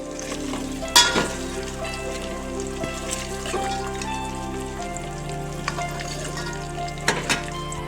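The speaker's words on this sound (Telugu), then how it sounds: "ఎగ్స్ ఇలా లైట్గా ఫ్రై చేసుకోవాలి ఇలా ఆయిల్లో ఫ్రై చేసుకోవటం వల్ల ఎగ్స్కి బాగా టేస్ట్ వస్తుంది" Eggs fry lightly in oil for biryani, giving a steady close sizzle with a couple of louder taps and clinks from a utensil.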